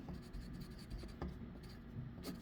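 A pen scratches softly on paper while a shopping list is written by hand, giving a close, faint, continuous scribble with small strokes and pauses.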